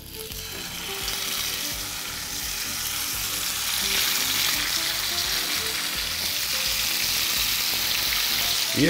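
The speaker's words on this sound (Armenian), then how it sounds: "Լցոնած կողիկները տապակելու ենք բուսայուղով։" Stuffed pork ribs fry in vegetable oil in a hot pan, giving a loud, steady sizzle and crackle that holds throughout and grows slightly fuller toward the end.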